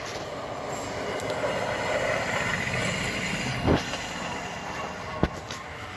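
A train rolls along railroad tracks outdoors, a steady rumble with rattling wheels and a couple of sharp clanks near the end, with no one talking.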